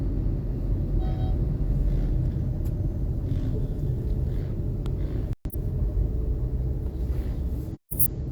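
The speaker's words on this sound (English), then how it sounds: "oh, traffic in Guyana now." Road traffic in Guyana rumbles steadily from nearby, a low continuous vehicle drone with a faint idling motorbike in the mix and two short dropouts.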